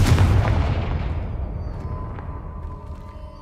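A blasting-curse spell from the Hogwarts Legacy video game detonates as one loud, booming explosion up close, followed by a long rumbling decay that fades gradually.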